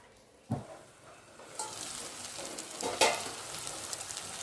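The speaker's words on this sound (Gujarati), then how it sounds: "પછી શાક વઘારીએ." Chopped ridge gourd dropped into hot oil for tempering on a gas stove, giving a soft sizzle with a few sharp bursts as pieces hit the pan, close and fairly quiet.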